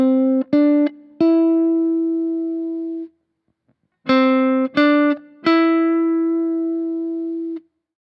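Electric guitar picked through a Kemper amp profile, crisp tone: two phrases of sustained picked notes with sharp attacks, each ringing out and decaying, separated by a brief pause, clean and alone.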